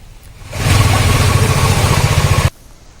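A municipal motor pump draining floodwater from low-lying streets during heavy rain in Kolkata, a loud steady engine drone that starts abruptly, runs for about two seconds and cuts off.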